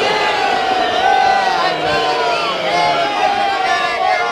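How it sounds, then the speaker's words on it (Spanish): Stadium-style crowd booing played on cue during a Spanish-language TV show, a sustained, loud wash of jeering voices with rising and falling calls, filling the whole stretch without a break. "Abucheo de estadio, por favor."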